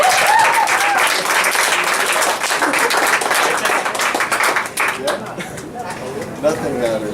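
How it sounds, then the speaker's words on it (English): An audience claps after a reading at an MFA showcase, a dense and sustained round of applause with voices and chatter mixed in, thinning slightly near the end. "Another round of applause for Whitney"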